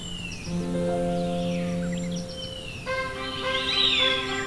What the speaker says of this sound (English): You can hear birds sing everywhere.